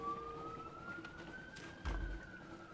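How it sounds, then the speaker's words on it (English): Several sirens wail outside at a distance, a faint rising tone sweeping slowly upward over a low background rumble, with a brief thump partway through. "Okay, like multiple sirens just went off outside."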